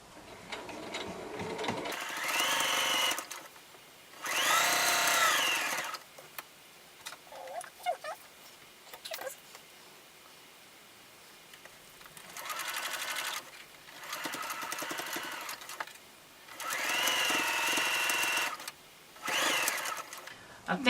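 A sewing machine chain-pieces scrappy fabric for a pet mat, running in several loud bursts of steady whirring with quieter pauses between runs.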